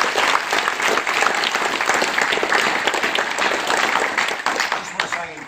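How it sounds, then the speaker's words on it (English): A seminar audience applauds the speaker with sustained, dense clapping that fills the room, holding steady before tapering off near the end. "Let's give him a clap."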